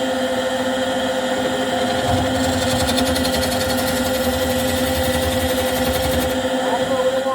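A bowl scraper cutting a live edge wooden bowl spinning on a lathe, giving a steady close motor hum with a rough chattering scrape layered on top as the tool bites into the wood.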